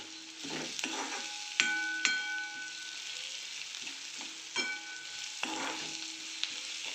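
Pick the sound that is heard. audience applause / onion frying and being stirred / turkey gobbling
onion frying and being stirred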